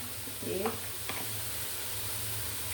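Ginger and garlic added to chicken frying in a pan, a steady hiss of sizzling oil with a short burst of stirring and clatter near the start, then continuous frying.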